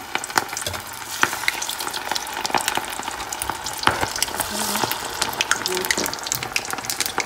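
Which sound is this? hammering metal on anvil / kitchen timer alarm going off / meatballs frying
meatballs frying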